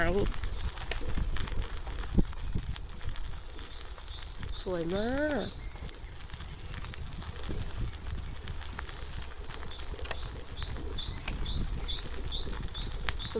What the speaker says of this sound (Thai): เพื่อนจ๋าได้ยินเสียงนกร้องเลย